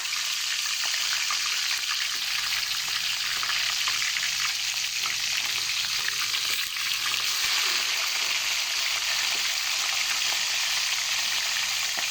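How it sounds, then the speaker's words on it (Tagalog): Pieces of food frying in hot cooking oil, a dense, steady, fairly loud sizzle and crackle that continues unbroken throughout. "nagpainit na tayo ng mantika. Ito ang piprituin natin."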